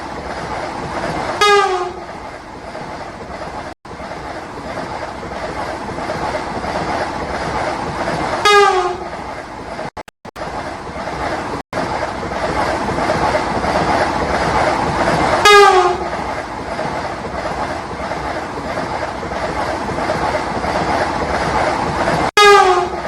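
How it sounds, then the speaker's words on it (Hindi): A Vande Bharat express train runs steadily on the line between Delhi and Patna with a loud continuous rumble and clatter, while its horn sounds several times in short blasts, close and prominent, with no talk. "बता दें कि वंदे भारत 11 घंटे और 35 मिनट में दिल्ली से पटना का सफर पूरा करेगी।"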